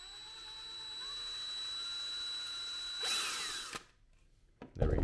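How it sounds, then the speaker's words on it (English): A drill bores out the locking piece of a 3D-printed TLR-1 HL holster, a steady whining run that swells into a louder, harsher burst before cutting off, followed by brief handling noise. "Gonna want to drill that out also."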